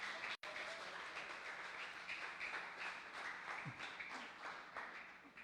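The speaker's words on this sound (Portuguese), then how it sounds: "uma salva de palmas aqui para o nosso aniversariante" A church congregation at a teaching service gives a round of applause for a birthday celebrant, steady clapping from many people filling the room at moderate, even volume for several seconds.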